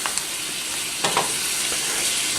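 Food stir-frying in a pan gives a steady bright sizzle with a few sharper crackles and stirring scrapes, close and continuous, no talk.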